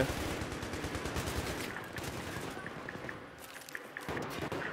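Rapid automatic rifle fire from AK and MP weapons in Battlefield 3, dense bursts of shots close and loud through the first half, thinning to scattered sharper cracks later, with no talk.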